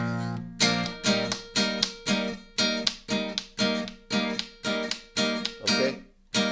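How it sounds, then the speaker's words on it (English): Electric guitar played with the strings muted by the heel of the right hand, chugging out a steady rhythmic chord pattern, each stroke dull and percussive, close and alone. "we are muting with the heel of our hand, our right hand. We are muting the strings"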